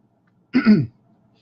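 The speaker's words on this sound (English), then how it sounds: "Excuse my clearing my throat here." A single short, gruff throat clearing, close and fairly loud, surrounded by near silence.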